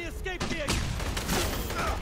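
An explosion in the video game Aliens: Colonial Marines, heard as a burst of gunfire-like cracks and thuds under a person talking in the foreground.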